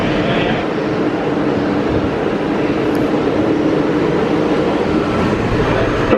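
Walt Disney World resort monorail train in a station, a steady loud rumble and whir of the rail vehicle and its surroundings throughout, with no speech.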